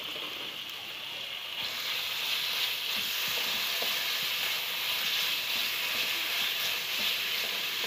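Pieces of chicken sizzle steadily in hot oil in a home kitchen while a chicken pasta is made, giving a continuous close hiss and crackle with no talking.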